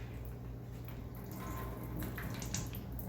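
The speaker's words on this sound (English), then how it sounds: "grab your cut heart and then try and pour out as much blood as possible" Thick, viscous blood poured from a cut cow heart into a container, a continuous wet trickling and splashing close by with a faint steady hum underneath.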